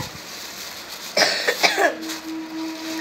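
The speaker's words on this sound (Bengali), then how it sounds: "আমার কাশি পেয়ে যাচ্ছে, আমার আসলে একটু শীত লেগেছে" A person with a slight chill coughs in a short cluster of three or four close, fairly loud hacks, followed by quiet with a faint steady tone.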